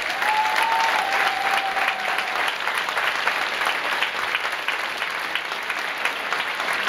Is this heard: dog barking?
no